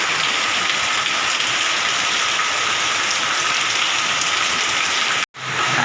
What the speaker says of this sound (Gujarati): અત્યારે ધોધમાર વરસાદ ચાલુ.